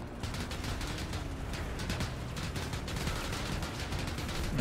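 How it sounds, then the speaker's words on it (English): Small arms gunfire rattles continuously in PlanetSide 2 infantry combat, dense overlapping bursts and shots at moderate distance with no pauses, no talking. "those small arms is just eating me up"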